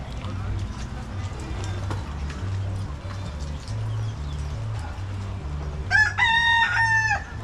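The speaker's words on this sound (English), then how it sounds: "chicken." A chicken crows loudly near the end, a clear cock-a-doodle-doo rising over a steady low rumble outdoors on Hawaii's North Shore, with faint background noise before it.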